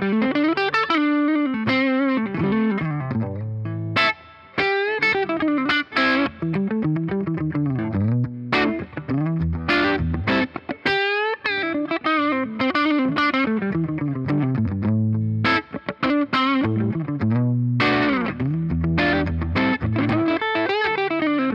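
Gibson Les Paul Murphy Lab 58 and Epiphone Inspired By Les Paul electric guitars played through distortion, a long stretch of driven chords and riffs with brief pauses, loud and close with no voices.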